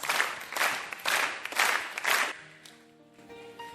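Wedding guests applaud in a few loud bursts of clapping, which fade after about two seconds into sustained musical tones.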